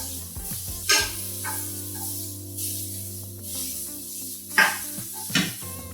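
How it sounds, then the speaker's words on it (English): Leeks sizzle softly as they cook down in a pan, giving a steady gentle frying hiss with a few brief clinks and scrapes. "So our leeks cook down nicely here."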